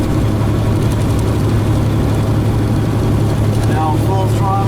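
A heavy truck with a 13-speed manual transmission runs at a loud, steady engine drone that holds close and constant, with brief rising tonal whines near the end as the gear shift and throttle change take place.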